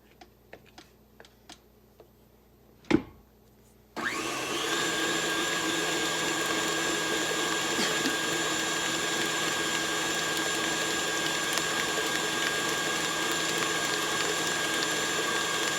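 After a few quiet clicks and one knock, an electric mixer switches on and beats cream cheese cookie dough until fluffy, giving a steady, close whirring hum that holds evenly to the end.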